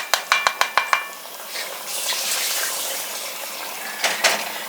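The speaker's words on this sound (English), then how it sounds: "I'm just going to let that simmer for just a couple minutes." Beef broth simmers in a pan on a home stove. A quick run of sharp utensil taps against the pan comes first, then a steady, soft bubbling sizzle continues with no talking.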